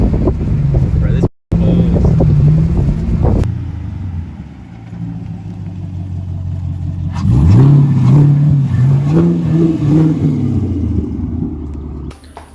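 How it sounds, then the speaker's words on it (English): A 6th-gen Camaro SS with a steel-pipe muffler delete rumbles and revs loudly, its deep exhaust note rising and falling in several pulls, wind buffeting the mic. "As you can hear, it sounds amazing. It's just a muffler delete, but with the actual steel pipe"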